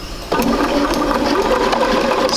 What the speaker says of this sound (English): So I'm going to go ahead and sew that.